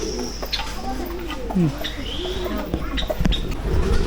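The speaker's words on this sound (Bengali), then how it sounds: "এখানে ঘুঘু আছে, এই ঘুঘুগুলো আমার বাসায় আছে, আমি পালি" Doves at Sreemangal zoo coo softly in low, rolling phrases, repeated several times nearby, mixed with faint chirps and background noise.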